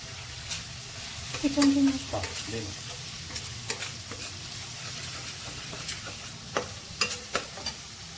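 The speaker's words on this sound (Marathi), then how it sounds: "त्याला आपण थोडंसं मिक्स करून घेऊ" Paneer tikka biryani mixture stirred in a pan, with soft scraping and sizzling from frying; a few brief louder stirs stand out over a steady low sizzle, and no one speaks.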